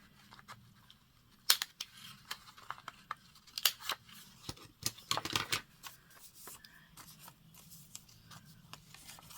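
Scissors snip paper bag crafting material in scattered short bursts of crisp cuts mixed with rustling paper handling, close and fairly quiet, with no talking.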